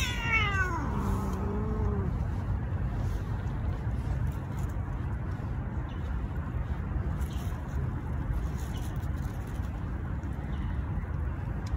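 Two male cats face off in a yowl, one rising and falling wail in the first two seconds, then a long stretch of steady low background rumble with no further cries.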